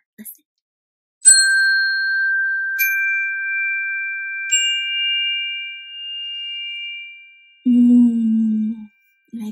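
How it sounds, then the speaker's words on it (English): Three small chime bars are tapped with a stick one after another, each leaving a clear ringing tone that slowly fades, followed by a brief voice at the end. "I use this stick, and I tap these little bars, these chimes, to make a sound."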